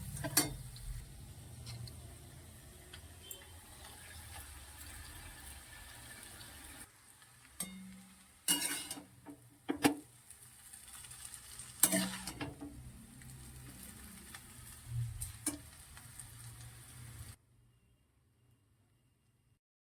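Bok flower fritters frying in hot oil in a wok give a steady, close sizzle with several sharp clatters of utensils before the sound cuts off into near silence.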